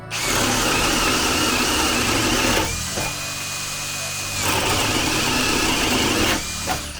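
A ProCraft CD20A cordless drill on second speed bores with a 20 mm spade bit, giving a loud, steady whir that runs for about two and a half seconds, drops to a lower hum, then surges again before a brief dip near the end.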